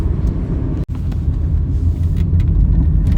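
A Honda City with an automatic gearbox rolls through city traffic, giving a steady low engine and road rumble inside the cabin with a brief dropout partway through and no talking.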